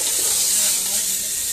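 Goat meat being stirred in an oily pot for biryani gives a brief burst of loud, continuous sizzling and frying hiss, close up, with no voices.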